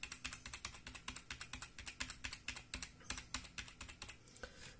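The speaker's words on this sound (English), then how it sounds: "Alt control delete, press F2 on the keyboard." Fast, crisp key presses on a Fujitsu computer keyboard, a steady run of clicks in quick irregular bursts, close up and quiet with no voices.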